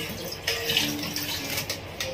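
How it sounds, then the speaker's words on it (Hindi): Water poured into dry-ground rice for Eid kheer in a home kitchen, a steady close splashing, trickling flow running for about two seconds with no talk. "फिर थोड़ा सा ही पानी डालेंगे और इसे पकाएंगे"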